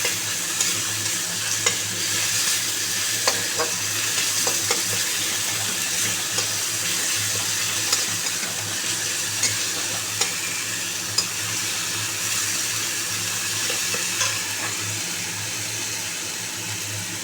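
Ground spice paste and onion paste fry in a pan with a continuous close sizzle, broken by light scraping clicks as a utensil stirs it; no voices are heard.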